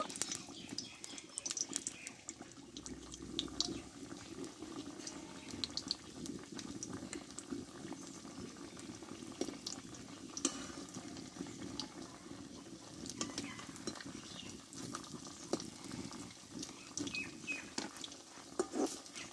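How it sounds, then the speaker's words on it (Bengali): Semolina sweets frying a few pieces at a time in hot oil, giving a steady soft bubbling patter with fine crackles throughout, fairly quiet and close, no talking. "তেলটা গরম করে নিয়েছি এবার মিষ্টিগুলো আমি ভেজে নেব"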